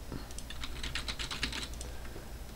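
Fingers typing on a computer keyboard, a quick irregular run of light key clicks close by that bunches up in the middle and then trails off, with no talking.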